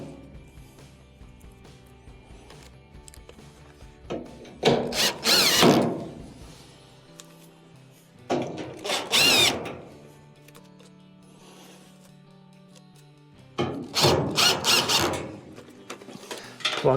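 A power screwdriver drives Phillips screws back into a dryer bracket in three separate whirring bursts of a second or two each, with quiet handling noises between them.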